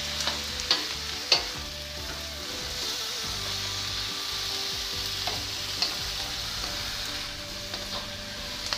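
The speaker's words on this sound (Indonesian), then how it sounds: "Sayur kubis tumis layu, kemudian masukkan wortel. Ini wortel juga cepat saja ya, teman-teman. Diaduk rata." Cabbage and carrots stir-fried in a pan give a steady broadband sizzle, broken by several sharp scraping and clattering stirs of a utensil against the pan, with no voices.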